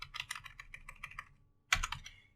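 Code being typed on a computer keyboard, a rapid run of close, crisp key clicks for over a second, a short pause, then a heavier burst of keystrokes ending with a louder thump like the enter key.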